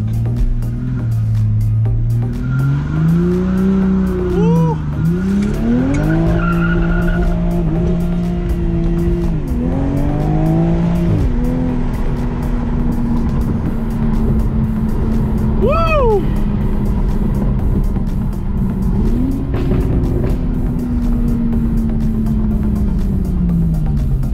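A 2020 Toyota Supra revs and pulls hard with rising and falling engine tones through gear changes and a brief tire chirp, heard loudly from inside the car over steady road noise.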